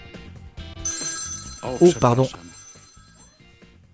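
A telephone rings in short loud bursts in the middle, with people speaking around it before and after.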